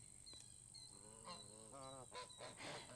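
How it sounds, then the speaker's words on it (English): A killdeer on a farm gives a run of harsh, squealing honk-like calls, several repeated cries rising over a faint steady background hum at moderate distance. "That's a killdeer."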